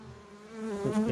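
Honey bees swarm and drone around an opened hive being relocated, a dense continuous buzz close by that swells slightly louder toward the end.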